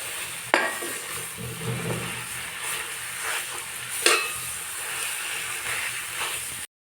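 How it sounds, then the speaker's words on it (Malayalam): Mashed potato and carrot masala for masala dosa being stirred in a hot pan, a constant sizzle with a couple of sharp spatula knocks and scrapes, nobody speaking. "ഇത് നന്നായിട്ടൊന്ന് ഇളക്കി കൊടുക്കുക."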